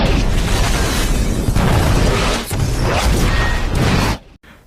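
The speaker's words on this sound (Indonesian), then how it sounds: "Tetapi ternyata komputer mereka meledak saat itu juga." A computer blowing up in a hacker film: a dense, loud roaring blast that rumbles and crackles for about four seconds before cutting off abruptly.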